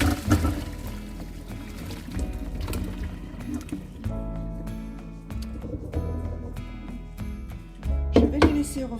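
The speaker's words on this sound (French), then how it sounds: "donc là je vais égoutter mes légumes" Cooked vegetables including sweet potato being drained after ten minutes of boiling, water pouring and splashing with clunks of the pot and colander, close and uneven, louder bursts at the start and end, with a voice in between.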